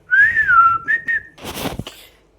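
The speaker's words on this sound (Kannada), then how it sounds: "ಇದ್ರ ಬಾಯಿ ಹಾಕಿ 2 ವಿಸಲ್" A shrill, wavering whistle from a pressure cooker on the stove, followed by a short rush of hissing steam that fades out, heard alone.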